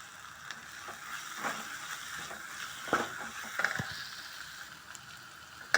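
Curry leaves and coriander leaves sauté in a pan for fish curry with a soft, steady sizzle. Quiet spoon scrapes and stirring clinks come and go, with a sharper knock near the end.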